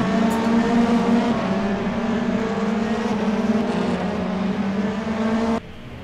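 Race cars in a sim racing video game roar with a steady, loud, sustained engine drone that holds level throughout, then drops in volume sharply near the end.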